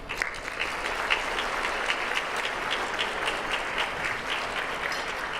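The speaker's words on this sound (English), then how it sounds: "I want you to really give a huge round of applause to the top 3 of this award" An audience gives a long, steady round of applause for the top three nominees at an entrepreneurs' industry awards night, dense and even clapping with no voices over it.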